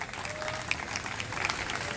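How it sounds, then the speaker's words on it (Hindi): An audience at a student event at Muslim College Multan applauds a student, a brief burst of scattered clapping heard faintly from across a hall. "बहुत सारी तालियां इनके लिए"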